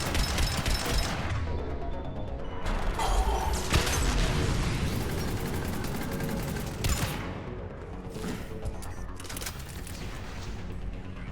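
Turret gunfire rattles nonstop in the video game Mass Effect 3: dense, loud bursts of rapid shots with heavy booms and mechanical clatter, thinning slightly toward the end.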